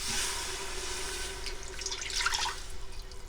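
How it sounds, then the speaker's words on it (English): Milk poured into a pot on the stovetop over a flour and melted butter roux for loaded potato soup, a steady liquid stream with splashing and dripping throughout, no talking. "Add in 2 cups of milk."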